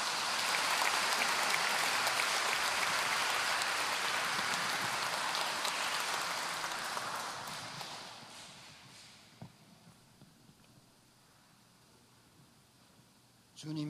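A concert audience gives sustained, dense applause at a celebration concert, then it thins out and fades into near quiet, leaving a few faint sounds.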